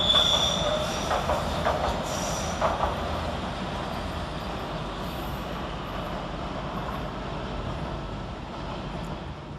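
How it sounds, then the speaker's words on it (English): A Great Western Railway Class 800 unit, 800 321, arrives to terminate at London Paddington from Worcester Foregate Street, its wheels squealing and rumbling loudly and steadily under the station roof, gradually easing off, with no talk. "Next up arriving to terminate with a Great Western Railway service off Worcester Falgate Street is 800 321."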